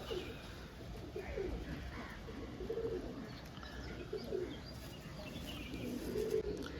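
Several pigeons coo in soft, repeated throaty murmurs, faint and somewhat distant beneath a low background hum.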